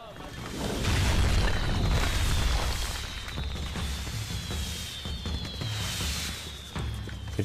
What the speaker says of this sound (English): That's gonna be an awesome explosion.